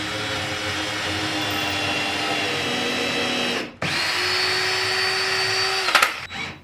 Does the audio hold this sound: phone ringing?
no